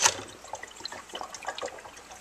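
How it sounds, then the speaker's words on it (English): Water drains down inside a Keurig coffee machine, a soft, continuous trickle and gurgle that stays close and steady throughout, with no voices. "The water will drain down into the machine."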